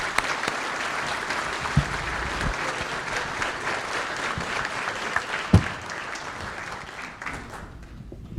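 An audience claps warmly to welcome a speaker at a monthly program talk on mental health. The applause is steady and full for several seconds, then thins out and fades near the end.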